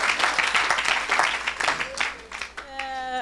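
Church congregation at a Saturday service applauding: a burst of crowd clapping rises and falls under an excited voice, ending as a speaker continues over a sustained musical tone.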